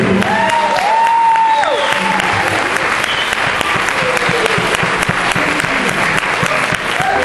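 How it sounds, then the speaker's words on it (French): Thunderous applause from a live stage-show audience fills the space, dense and sustained throughout, with a few faint voices and cheers mixed in. "j'aimerais encore que vous fassiez un tonnerre d'applaudissements à Pierre, qui est avec moi sur scène"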